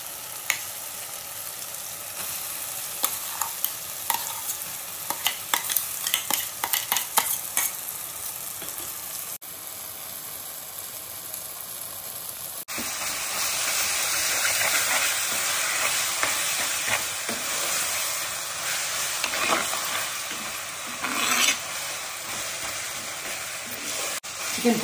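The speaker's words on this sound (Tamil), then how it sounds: "நல்லா மொத்த சிக்கனும் மசாலா சேர்ந்து வர மாதிரி நல்லா மிக்ஸ் பண்ணலாம்" Chicken burji stir-fried with masala, tomato and onion in a pan, a steady sizzle with scraping stir strokes that swells louder and denser partway through, continuing without talk.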